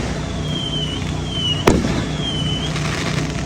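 A single sharp firework bang rings out amid steady background noise, with a thin whistling tone drifting above it before and after.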